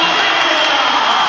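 A basketball arena crowd cheers and roars after a last-second shot, a loud, dense wash of fan noise with no gaps.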